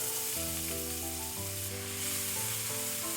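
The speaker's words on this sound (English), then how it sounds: "As soon as they splutter like this and smell fragrant, it's time for the onions." Onions sizzle in hot oil with red chili and cumin, a steady, moderately quiet hiss that continues under sustained musical tones.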